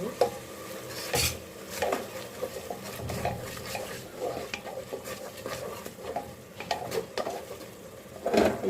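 Spices for khichuri stirred and fried in a pan with turmeric and a little chili, a spoon scraping and clinking steadily over a constant sizzle, close and continuous with no talk.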